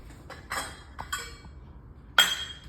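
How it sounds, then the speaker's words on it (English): Ice cubes clink and knock into a large plastic bag, a few scattered light impacts with a sharper clink near the end. No one speaks. "I'm gonna start putting the ice."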